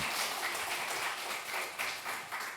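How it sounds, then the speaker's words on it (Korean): Church congregation at a Sunday service applauds together, a dense, steady wash of many hands clapping at moderate loudness with no talk over it. "우리 박수 한번 격려할까요?"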